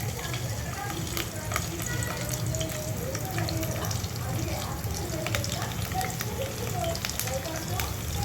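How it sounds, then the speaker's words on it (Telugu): Green chilies frying in hot oil give a steady, dense sizzle close by with faint stirring clicks throughout, constant in level and without pauses. "ఆయిల్ హీట్ ఎక్కిన తర్వాత పచ్చిమిర్చి,"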